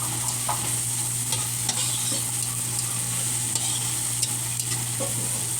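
Eggplant and Malabar spinach sauté in a pan, with a steady hiss of frying and repeated scraping and clinking as a utensil stirs the vegetables close by.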